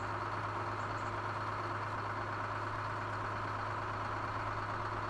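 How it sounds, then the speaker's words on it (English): Steady low rumble of a truck engine idling in SnowRunner, a constant droning hum with no change in pitch, moderately loud and alone without talk. "Looks like it's just truck noises."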